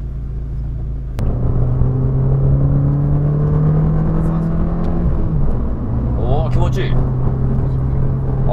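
A limited-edition Abarth 695 Tributo Ferrari pulls hard, its engine heard from inside the cabin as a loud, rising drone after a sharp shift, while people talk over it.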